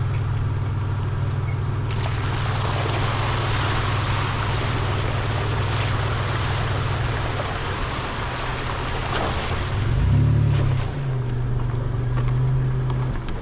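A 1999 Toyota 4Runner with lockers drives through a stream crossing, its engine droning low under rushing, splashing water, and it revs louder and surges near the end.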